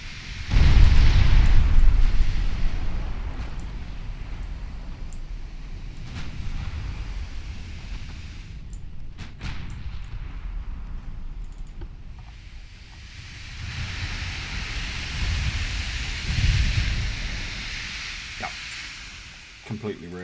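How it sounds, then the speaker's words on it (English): A heavy explosion from 13-inch high explosive shells striking a transport in the naval game Ultimate Admiral Dreadnoughts opens with a loud low boom, then a long rumbling, rushing roar of water and fire that swells again later. "13-inch high explosive against the transport"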